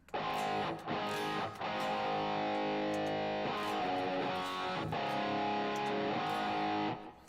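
An electric guitar through a modeler plays sustained chords with a spacious delay and reverb tail, notes ringing and overlapping with a few brief pauses between strums.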